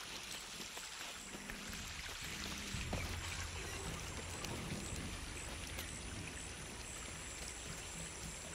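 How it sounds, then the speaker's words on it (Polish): Water flows and trickles steadily in the video game Shadow of the Tomb Raider, a soft, constant rushing wash with light splashy detail throughout, faint in level and uninterrupted. "Wydaje mi się, że woda zasila jakoś most."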